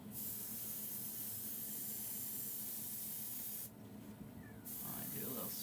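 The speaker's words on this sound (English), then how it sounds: "I do a little spray in here" Steady hissing spray from a bottle, close and continuous, misting inside a small animal's mouth, with a brief pause before the spray resumes.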